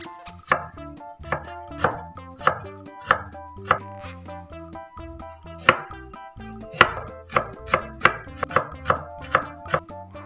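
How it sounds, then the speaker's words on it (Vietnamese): Knife mincing onion, shallot, ginger, carrot and scallion on a cutting board, a series of crisp, close chops in a steady rhythm that quickens toward the end. "Và bây giờ mình sẽ đem chúng đi băm nhuyễn hết ha."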